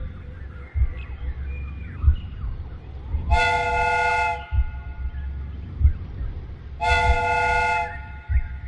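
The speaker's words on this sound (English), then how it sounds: "The steam whistle is ready to be used." A steam whistle on a replica train in a Sherlock Holmes game blows two sustained, bright multi-tone blasts a few seconds apart, loud over a low rumbling background.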